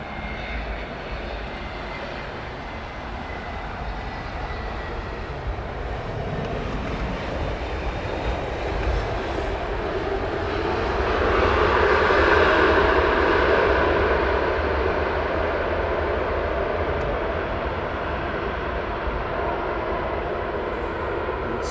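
A JetBlue Airbus A321 arriving at Heathrow on runway 27R after a flight from JFK, its engine roar building steadily, peaking loud overhead and then holding a broad whooshing rumble as it passes.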